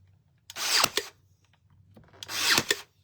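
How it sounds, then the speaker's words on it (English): Nail gun firing into two one-inch wooden boards, two sharp pneumatic bursts about two seconds apart, close and loud over a low background hum. "And then I just put a nail on each side because we've got 2 boards here that we're trying to hold together."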